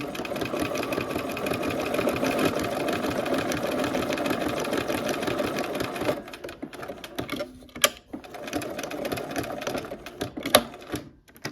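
A sewing machine stitches quilt pieces in burgundy berry-colored fabric for a Nordic Stars quilt, running in a fast continuous whir for about six seconds, then in shorter bursts with brief pauses.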